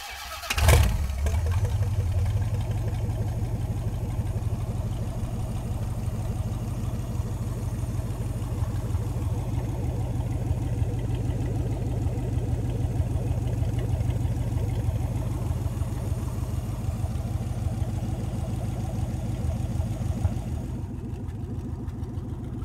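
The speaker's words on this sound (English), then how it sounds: "So come on up, let's fire this Hemi up." A Hemi engine in a 1930 Ford five-window coupe street rod cranks and fires up close, then settles into a steady, rumbling idle that runs unbroken for about twenty seconds.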